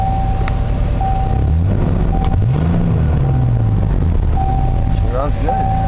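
A 1990 Ford F-150 pickup with the 4.9L engine idles with a steady low rumble, then revs briefly in the middle before settling back, with voices nearby.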